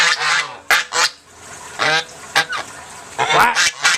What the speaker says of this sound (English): All they do is honk, honk, honk, honk, honk, honk.